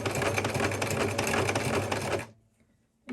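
A sewing machine runs steadily for about two seconds, stitching along the edge of a fabric bookmark with a fast rattling hum, then stops abruptly, leaving a quiet pause and a brief soft click.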